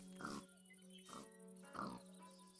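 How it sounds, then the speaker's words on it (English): Pigs oink in the Minecraft modpack Scape and Run: Parasites, three short snorting grunts about half a second apart, faint and in-game over a steady low hum with no talk. "Pigs! Pigs!"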